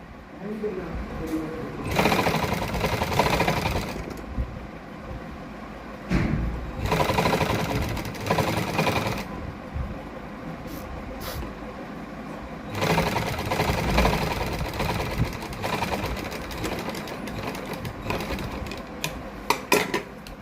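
A sewing machine stitches pearl lace onto fabric with a single stitch. It runs in loud, steady whirring bursts separated by short pauses, with speech around it.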